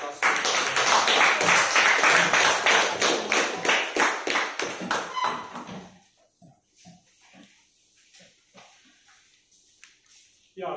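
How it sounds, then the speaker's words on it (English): Applause from the audience at a speakers' forum meeting, dense and loud for about six seconds before thinning into scattered fading claps. "So a round of applause."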